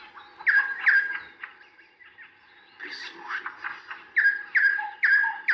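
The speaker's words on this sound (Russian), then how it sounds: "Все птицы поют, кричат и щебечут одновременно." Many birds sing at once in a spring forest at dawn, repeated bright chirps and warbling phrases overlapping near and far in bursts, with a brief spoken word.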